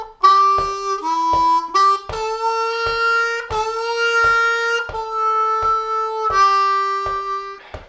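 A short blues lick on a C harmonica, including a bent 3-hole draw note, played as a series of clear, sustained reedy notes with distinct rhythmic articulations, loud and close with no talking.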